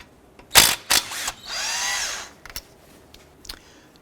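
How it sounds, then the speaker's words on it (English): A power tool spins out bolts with a 13mm socket on a 2004-2009 Dodge Durango during wheel hub work: two short close bursts, then a longer steady whir of about a second, followed by faint clicks. "Using a 13mm socket, we're going to go ahead and remove this bolt here and this bolt here."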